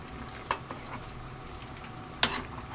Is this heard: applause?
no